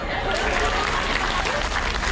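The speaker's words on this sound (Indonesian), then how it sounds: "Tepuk tangan dulu." Audience applause at an Indonesian religious lecture, a steady dense wash of clapping filling the whole moment with no pauses, fairly loud and close.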